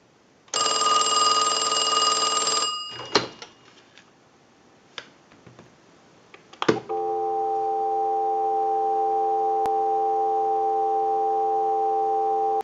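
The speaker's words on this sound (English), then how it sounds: "we'll give you some dial tone" A harsh, buzzy electronic tone sounds for a couple of seconds from an old Mickey Mouse model telephone, a few clicks follow, then a steady, continuous dial tone hums on to the end.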